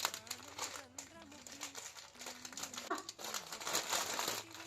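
Packaging from a Flipkart kurta order crinkles and rustles in close, irregular bursts under a voice speaking through most of the scene.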